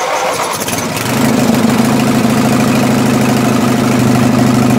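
A Racing Panzer engine, its carburetor freshly cleaned, cranks briefly and then catches into a loud, steady, buzzing idle that runs on close and unbroken.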